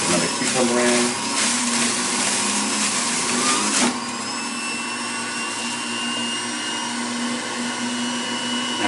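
Electric juicer motor grinding a cucumber, a loud steady whir with a brief harsher burst of crunching pulp in the first four seconds, then a smoother hum to the end.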